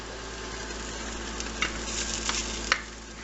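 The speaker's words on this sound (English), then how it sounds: "Okay, so now we're going to add the 1 clove of garlic that we minced into the onions for sauteing." A clove of minced garlic and onions sauteing in a pan, giving a steady soft sizzle with a few brief stirring scrapes over a low background hum.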